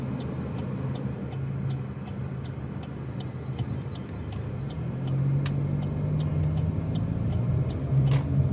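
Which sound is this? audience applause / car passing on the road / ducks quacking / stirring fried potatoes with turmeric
car passing on the road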